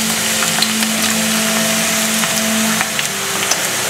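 Onions and garlic fry in a pan as the start of a shakshuka, giving a steady, close, loud sizzle with faint crackles and pops throughout and no voices.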